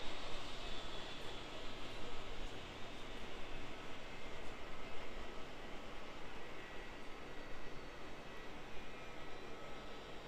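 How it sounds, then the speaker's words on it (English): Steady, fairly loud broadband jet engine roar from an Air Tahiti airliner taxiing at Auckland Airport, continuous and even with no talk over it. "Looks like our Air Tahiti is taxiing out as well."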